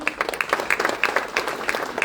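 An audience at a BJP political gathering in Gujarat claps for state party president C.R. Patil, with sharp, uneven handclaps repeating quickly over a murmur of crowd noise.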